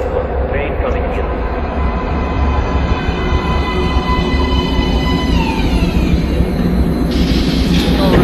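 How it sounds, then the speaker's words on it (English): A train in the video game Metro: Last Light rumbles loudly into a station, with metallic whining tones rising and falling over the heavy roar and voices mixed in. "Please step away from the edge of the platform. Train coming in."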